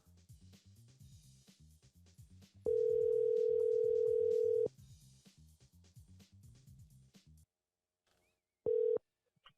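Telephone dial tone sounding while a call is being placed, a steady loud tone held for about two seconds amid background voices, then a short repeat after a quiet gap.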